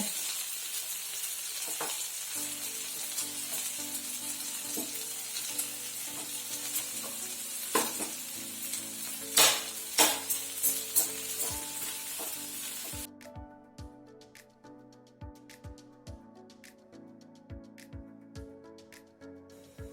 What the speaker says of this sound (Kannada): ಚಿಕನ್ ಚೆನ್ನಾಗಿ ಫ್ರೈ ಆಯಿತು.